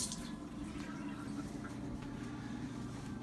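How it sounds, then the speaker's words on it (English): Hands are washed with soap under running tap water, a steady close wash of water with faint dripping and splashing, continuous throughout and with no speech. "wash my hands here quick. Little soap and water."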